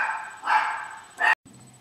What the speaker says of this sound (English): That's one of the joys of having a Chihuahua. They never stop barking.